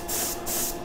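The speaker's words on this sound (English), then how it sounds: "It's not one continuous long spray." Spray paint hissing from a can in short, successive bursts while painting a Bronzeback model: two steady blasts with a brief pause between them, then a third starting, close and fairly loud.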